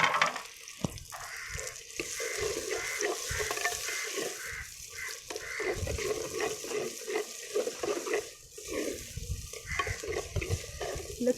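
Tomatoes dropped into a meat curry cooking over a hot wood fire, giving a steady close sizzle and frying crackle with stirring scrapes and clatter throughout, no voices.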